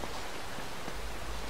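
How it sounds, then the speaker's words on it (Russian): Steady rain pouring down in Uncharted 2, a dense even hiss of drops with no voices and no breaks. "Дождик пошел."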